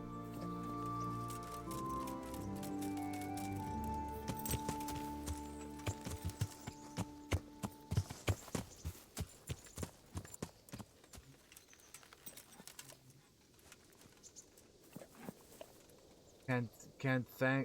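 Horse hooves clip-clop at a walking pace in the video game Kingdom Come: Deliverance, the steady clatter rising over game music that fades out, ending in a few sharper steps.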